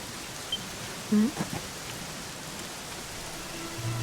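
Steady, soft rain hiss in the video game Dragon Quest XI falls evenly throughout, with a couple of faint brief knocks in the middle.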